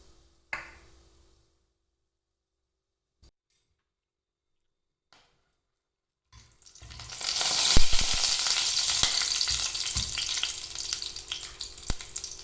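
After several seconds of near silence, a steady, crackling sizzle of whole cinnamon and cloves frying in hot oil starts up close and keeps going.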